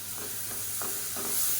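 Blended tomato sizzles and hisses as it is sautéed in hot oil, a steady soft frying sound with faint stirring scrapes, cooking in a masala for a mochai bean kuzhambu.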